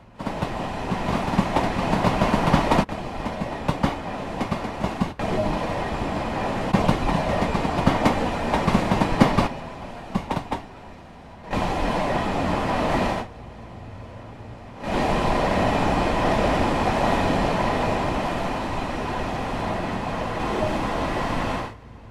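A Long Island Rail Road passenger train in Train Sim World 2 rumbles steadily with rhythmic clickety-clack of wheels, loud and close, with brief drops in volume as it passes.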